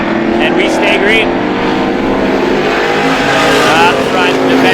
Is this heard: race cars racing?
yes